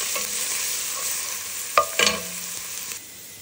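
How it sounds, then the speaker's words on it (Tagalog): Ginger sizzling and being stirred in a hot pan as the first aromatic for chicken sinigang, a steady close fry with a few sharp scraping stirs near the end, no talk. "Ang una kong ginigisa is luya."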